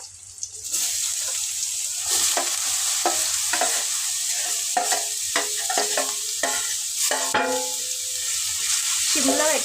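Sliced beetroot and onions sizzle and fry in a pan, with steady close hissing and repeated stirring scrapes of a spoon against the pan throughout.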